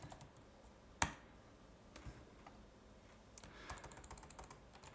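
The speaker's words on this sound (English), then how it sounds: "And I just mash some keys." Random keys mashed on a computer keyboard at a desk, a sharp loud first keystroke followed by scattered clicks and a denser burst of quick taps near the end, all close and alone.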